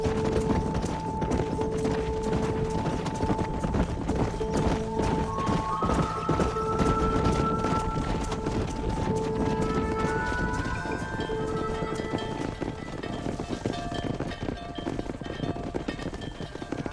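Horse hooves clip-clop at a steady gallop while riding in the Red Dead Redemption western game, with continuous background music throughout.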